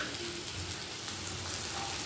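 Boiled taro pieces with salt and turmeric fry in a pan with a steady, close, even sizzle that carries on without pause or talking.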